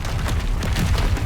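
In Hogwarts Legacy, a Confringo spell bursts into a fiery explosion, a low rumbling boom that rolls on for over a second at full loudness with no voices over it.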